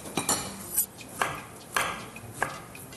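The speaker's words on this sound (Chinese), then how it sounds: "我们把它切丝" A knife slices a king oyster mushroom into thin shreds on a cutting board, making about half a dozen crisp knocks at a steady, unhurried pace. The room is otherwise quiet.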